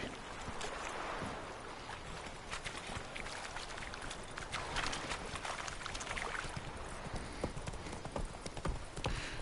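Clip-clopping hooves of the horse Roach in The Witcher 3, a steady trotting rhythm that runs throughout with no talk over it.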